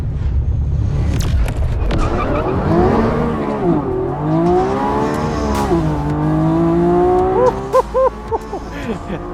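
A Lamborghini Revuelto V12 plug-in hybrid on a race track launches with a burnout, its engine loud and close as it revs in rising, sweeping pulls, with tire noise beneath and quick upshifts near the end.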